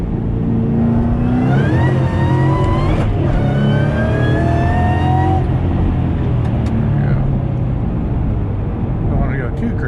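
A Ford Shelby GT500 V8 accelerates hard on a public road, its engine note climbing through rising gear pulls with shifts between them, loud and close from inside the car, with no talking.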